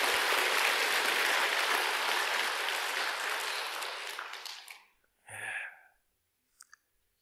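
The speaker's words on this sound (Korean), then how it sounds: "우리 모두 함께 찬탄의 박수 한번 칩시다" A congregation at a Sunday Buddhist dharma service at Bulgwangsa claps together in loud, sustained applause that fades out after about five seconds, followed by a brief rustle and a couple of faint clicks.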